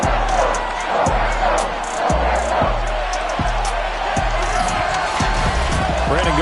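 A sold-out stadium crowd in an EA Sports NFL game roars in a dense, steady wash of cheering, with rhythmic thumping beats running underneath throughout.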